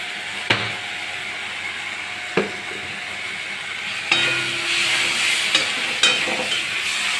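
Pangash fish kalia sizzles steadily in a pan while being sautéed and stirred, with a few sharp utensil clinks against the pan breaking through the constant frying hiss.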